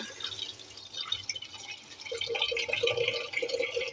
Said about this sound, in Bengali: এবার চাউলটা ধুয়ে দিব